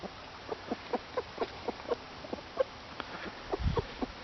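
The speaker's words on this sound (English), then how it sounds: "Listen to that. That's happy chicken sounds." Chickens newly released into a budget free-range pen give a run of soft, evenly spaced clucks and chirps, close by, with a brief low rumble near the end.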